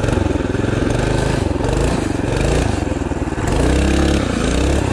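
A small mini race bike engine with a 212 or 224 motor revs hard and continuously up close, a loud buzzing drone that rises and dips in pitch over several seconds with no talking.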